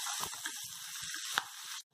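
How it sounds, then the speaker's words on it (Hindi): Diced potatoes roasting in a pan over a low-medium flame for samosa filling give a steady, close sizzle with a few soft scrapes and stirring knocks, alone and without speech. "इसे हम लो मीडियम फ्लेम पे अच्छे से आलू को भून लेंगे, ये मिक्स करना है और आलू को भून लेना है।"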